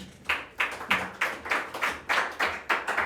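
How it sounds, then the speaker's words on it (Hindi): Audience clapping at a Saturday photo quiz competition as a winner is called up, a steady burst of hand claps in a roughly regular rhythm of distinct, fairly close slaps lasting the whole moment, with no talk over it. "ताली बजा दीजिए"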